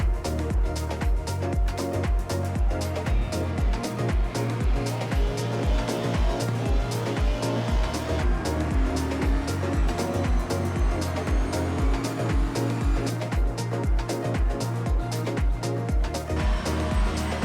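Mercedes and Ferrari race cars in the Assetto Corsa game roar in a dense, continuous engine drone with pulsing revs and gear changes, loud and close throughout with no voices.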